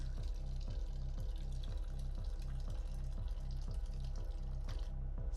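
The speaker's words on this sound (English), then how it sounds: "Hold on, I'm grabbing some more water" Water runs steadily from a tap while a drink is refilled, a continuous close splashing stream with a faint regular pulsing, alone without talk.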